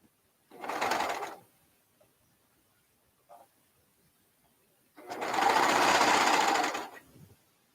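Sewing machine stitching slowly through a thick three-layer seam, two loud bursts of running separated by a quiet pause with a brief faint click between.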